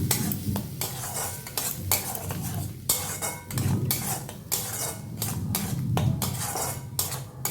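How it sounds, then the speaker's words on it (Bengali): A utensil scrapes and clinks against a pan while cumin powder, turmeric, salt and sugar are stirred and fried for dhokar dalna, a repeated close scraping rhythm with light sizzle beneath and no talking. "এবার এগুলোকে একটু কষিয়ে নেব"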